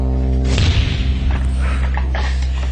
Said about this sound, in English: That was just one cannon going off.